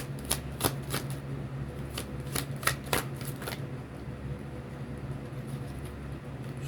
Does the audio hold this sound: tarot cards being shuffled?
yes